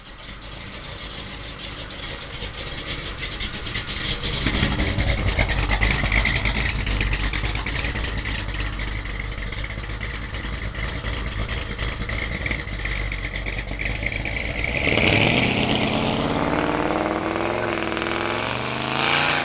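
A 1970 Chevrolet Chevelle with a 572 big-block engine runs with a loud, steady idle rumble throughout, then revs up sharply near the end before settling back.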